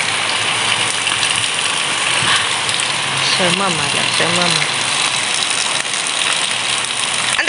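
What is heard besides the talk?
rain falling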